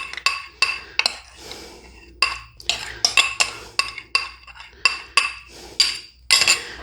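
Whisk or spoon clinking against a bowl while butter and egg are stirred together, a run of sharp irregular metallic taps and scrapes with brief pauses between bursts.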